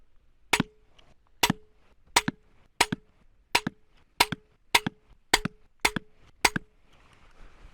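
Cobra 80 lb pistol crossbow shooting darts outdoors, nine sharp snapping shots each with a short twang, fired at a steady pace of roughly one per second, loud and close with no talking.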